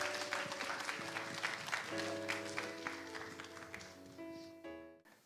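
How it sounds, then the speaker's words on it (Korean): Indoor audience clapping at a university Mass gathering, a dense burst of applause that holds steady and then thins out and stops near the end, moderately distant, with faint background tones. "큰 박수 부탁드립니다."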